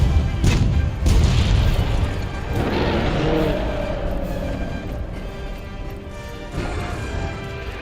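Far-off cannon fire booms in Monster Hunter World, muffled low thuds and rumbling crashes rolling under a steady layer of game ambience.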